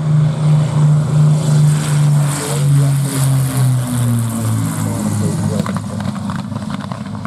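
A Mustang propeller aircraft passes close by a runway, its loud engine drone steady at first, then dropping in pitch and fading slightly as it moves away.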